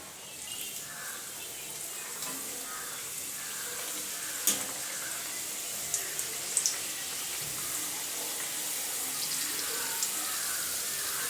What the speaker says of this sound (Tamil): இப்போது எண்ணெய் நல்லா ஹீட் ஆனதும் நம்ம செஞ்சுருக்கிற சமோசாவை உள்ள சேர்த்துடலாம்.